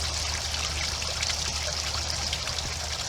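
Water pumped into a backyard pond spills and trickles steadily from a small fountain, a constant close splashing with no pauses.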